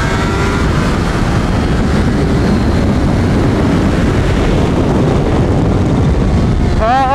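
A Kawasaki ZH2 motorcycle on a hot lap around a race track, heard from onboard: a loud, steady roar of engine and wind rush throughout, with a rising whine near the end.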